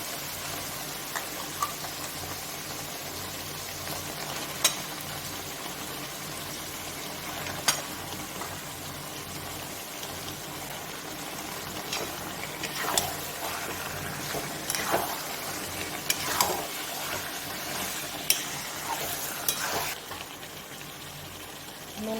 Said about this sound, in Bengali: মশলাটা কষা হয়ে গেছে আবার মাংসের সঙ্গে আরও কষা হবে মাটনটা দিয়ে দিচ্ছি